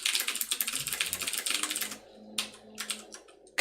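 Typing on a computer keyboard with rapid, continuous key clicks close up for about two seconds, then a few separate bursts of keystrokes after a short pause.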